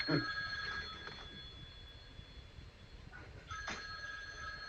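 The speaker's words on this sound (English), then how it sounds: "My phone is ringing." A mobile phone rings faintly in a room during an online rapid chess broadcast, a few soft electronic ring tones at the start and near the end over quiet background hiss.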